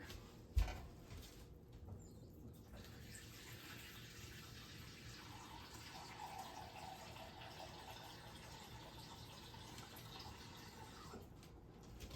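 Cold water runs steadily from a kitchen tap while liquid is measured for a strawberry pie filling being made for canning, with a short clunk near the start and no talking.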